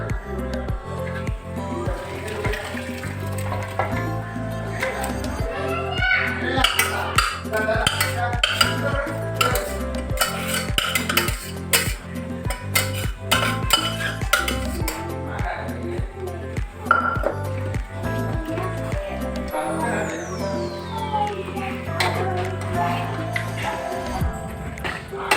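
A spoon clinks and scrapes against a pot as cooked chicken is stirred into a curry, with rapid rhythmic metal knocks and a light sizzle continuing under occasional talking.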